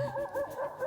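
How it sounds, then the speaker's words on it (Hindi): A dog whimpers in a wavering, rising-and-falling whine, repeating a few times over a brief moment. "ये कुत्ता रो रहा है"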